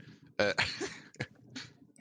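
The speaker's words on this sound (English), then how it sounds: "sneeze in the background again" A short, sharp sneeze bursts out at moderate distance, followed by a couple of smaller sniffs or snorts against quiet room noise.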